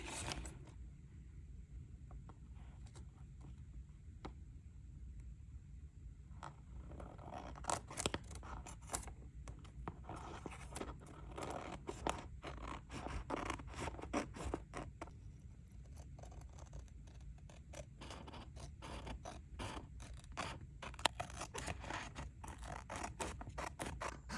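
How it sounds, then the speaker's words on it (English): Scissors snip away excess paper from a printed label, with a quiet run of repeated crisp cuts and rustling paper close up and no talking. "So first you want to cut off the excess in the paper."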